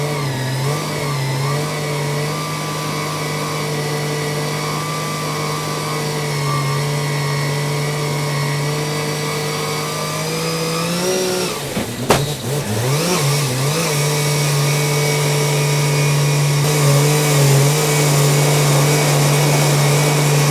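A Mazda 20B rotary engine with a G45-1500 turbo, running on E85, is run on a dyno with a silencer. It drones loud and steady, revs up briefly around the middle, then settles back into a sustained, even roar.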